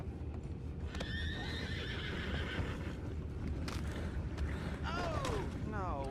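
Several horses whinny and neigh in the video game Red Dead Redemption II, one after another, over a steady rumble of hooves and background ambience.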